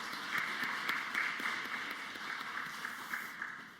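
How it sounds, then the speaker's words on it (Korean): A congregation claps together during a Wednesday evening worship service at Bucheon Jisan Church, a dense, continuous patter of many hands with occasional sharper accents, fairly close and even in level throughout. "우리 양육 8구역 식구들과 수요 경배 찬양팀 축복하는 박수 하도록 하겠습니다."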